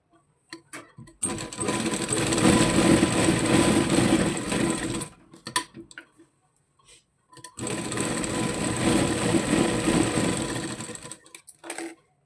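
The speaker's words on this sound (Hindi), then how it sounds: "अब हम इसकी एक साइड सिलाई कर लेंगे।" Electric sewing machine stitches one side of a baby frock in two long steady runs of rapid whirring, close and loud, separated by a few seconds of quiet handling.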